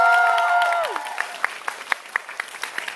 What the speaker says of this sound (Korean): 축하의 박수 한번 드릴까요?